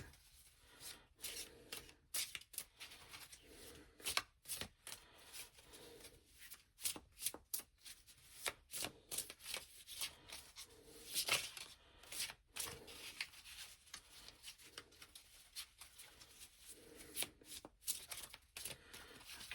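Tarot cards shuffled by hand in a quiet room, a long run of crisp riffling and sliding bursts with short pauses between them, no talking.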